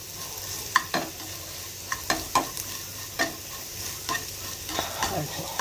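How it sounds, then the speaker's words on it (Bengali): Potatoes and beans stir-fried in a pan, giving a steady sizzle and hiss broken by repeated sharp scraping and clinking of the spatula against the pan, close up with no talking. "আর এখানে তুলতুলের বাবার জন্য একটু আলু বিনস ভাজছি।"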